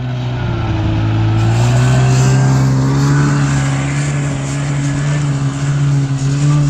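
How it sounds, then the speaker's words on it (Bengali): A motorbike engine revs steadily and loudly close by on a snowy road near Sonamarg, Kashmir, with a sustained low hum and a continuous broadband roar throughout. "শোনো বাইক,"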